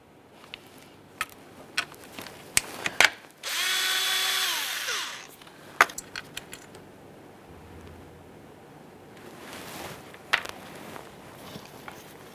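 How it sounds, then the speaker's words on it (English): A power tool spins out the single 8mm bolt holding the camshaft position sensor on a 2007-2013 Acura MDX, one loud whirring burst of about a second and a half, with scattered clicks and tool clatter before and after. "we'll remove our one 8mm headed bolt holding it in place"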